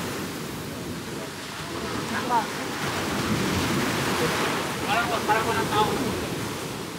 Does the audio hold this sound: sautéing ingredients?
no